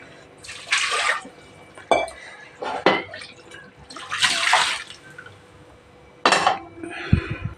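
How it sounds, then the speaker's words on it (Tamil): Water splashes and pours into a metal pot of mutton curry in a few bursts, with clinks of cookware between and faint kitchen clatter. "தேவையான அளவு தண்ணி சேர்த்துக்கலாம் நம்ம இதில்"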